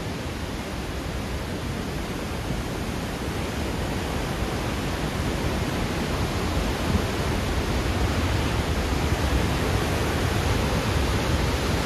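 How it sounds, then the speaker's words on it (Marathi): Randha waterfall at Bhandardara in the monsoon roars as a loud, steady, dense rush of falling water that fills the whole stretch without pause, with no talk over it. "आता खरा व्ह्यू हा आहे आपला रंधा वॉटरफॉल"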